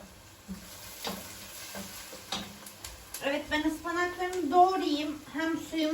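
Onions sizzle and crackle as they sauté in a hot pan, with a few light stirring taps at first, then a louder, steady frying hiss.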